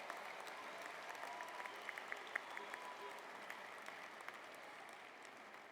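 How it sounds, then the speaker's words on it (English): An audience applauds steadily at a fall graduation ceremony, a dense wash of clapping from a large crowd heard at a distance, faint and continuous without a break. "Give them a round of applause."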